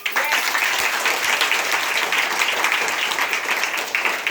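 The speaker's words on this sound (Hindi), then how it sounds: "एक बार जोरदार ताली" Audience clapping loudly at a business-plan sales meeting in India, a dense, steady burst of many hands that holds for several seconds with a faint voice or two underneath.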